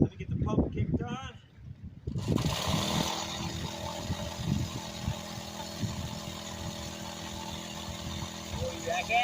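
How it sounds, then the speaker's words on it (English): A small gasoline water pump engine runs steadily at a gold prospecting site in flooded Ohio, a continuous mechanical drone after someone talks briefly at the start. "Let me get the pump kicked on."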